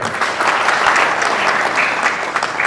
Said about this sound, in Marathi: खरोखर तिच्यासाठी टाळ्या वाजल्या